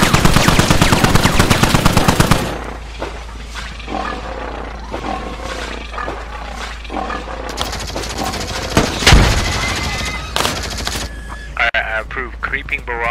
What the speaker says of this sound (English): Creeping barrage and an airstrike.